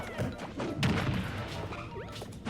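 Smash attack hits in a Super Smash Bros. match between Olimar and Kirby, with a sharp crash-like impact and several quick thuds over busy game noise, fairly loud and close.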